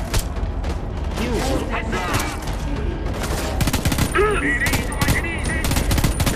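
Dense bursts of rapid gunfire from the video game Homefront: The Revolution, loud and continuous with mechanical clatter, mixed with game effects and voices talking over the shooting.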